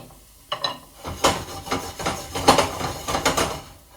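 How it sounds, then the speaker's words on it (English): Garlic stirred around in hot oil in a pan for an Italian gravy, with irregular scraping and clinking strokes over a soft, steady sizzle, close and moderately loud. "So you get that garlic going, you stir it around, you make sure it doesn't clump."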